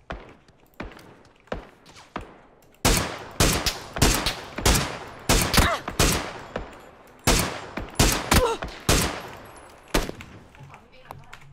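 Gunfire in the video game PUBG: a long run of sharp, loud shots in bursts and single cracks with echoing tails, spread over several seconds, with faint talk now and then.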